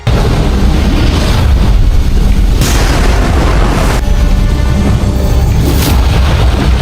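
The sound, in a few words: massive magma explosion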